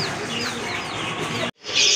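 Desi hen clucking close by in a farmyard with several high chirps running through, the sound cutting off abruptly before a brighter burst of noise returns at the end.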